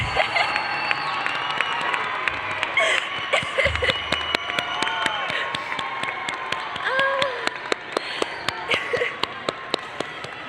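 Families in a stadium cheer and clap for high school graduates leaving the floor after a graduation ceremony; a broad, sustained crowd roar with scattered whoops, shouts and sharp individual claps punctuating it throughout.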